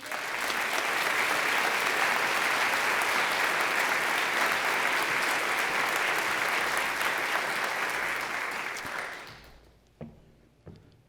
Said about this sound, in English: please join me in a round of applause for Tracy Mills.